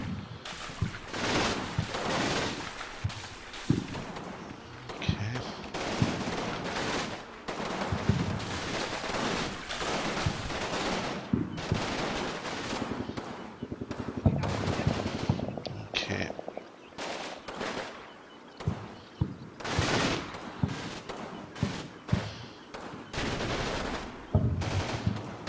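Artillery and gunfire in the Combat Mission video game arrive as repeated bursts of machine-gun fire and heavy booming explosions, dense and loud throughout, with brief quieter gaps between volleys.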